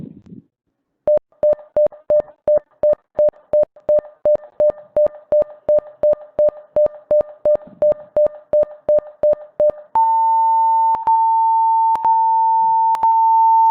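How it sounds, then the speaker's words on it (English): Loud electronic beeps from an object-detection assistive device repeat in a rapid, even rhythm, then shift to a higher, longer steady tone broken by occasional short gaps. "the continuous beeping with the short duration or short intervals between them indicates that the object is in the direction"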